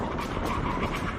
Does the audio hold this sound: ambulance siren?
no